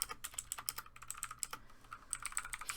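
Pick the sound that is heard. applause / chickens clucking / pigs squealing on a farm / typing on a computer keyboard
typing on a computer keyboard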